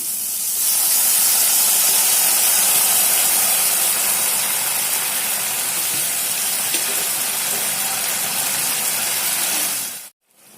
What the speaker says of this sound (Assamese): এতিয়া দিম অকণমান গৰম পানী